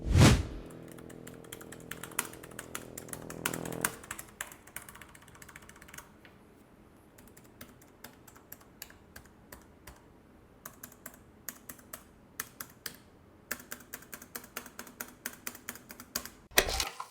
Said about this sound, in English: for your reference, here's a typing test